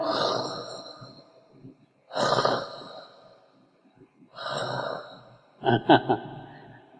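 A voice imitates snoring to demonstrate the Arabic letter kha, producing three rough, breathy throat rasps with pauses between, followed by a short choppy burst; close and fairly loud, no other sound.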